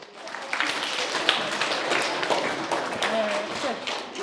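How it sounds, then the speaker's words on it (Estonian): Small audience applauding a student presenter at a middle school event, a steady wash of clapping of moderate loudness throughout, with some voices mixed in. "teeme väikse aplausi talle."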